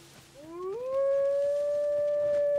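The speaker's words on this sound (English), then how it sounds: "Why are the wolf howls so loud?" Wolf howl in the Dragon's Dogma 2 video game, a loud rising wail that climbs and then holds a long steady pitch, heard alone without speech.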